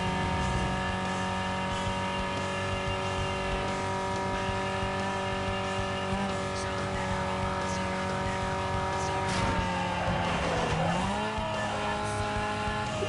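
A race car in Need for Speed: Most Wanted (2005) on PC drives at speed with a steady engine drone, and a tire squeal and skid rises near the end.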